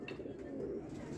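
Rampuri pigeons coo softly in a loft, a low continuous murmur of several birds layered together, steady and moderately quiet with no talking.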